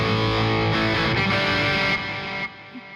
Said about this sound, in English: Use a little distortion too, or not distortion, but delay.